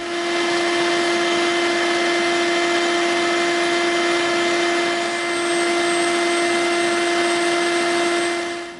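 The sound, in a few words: Dremel rotary tool grinding EVA foam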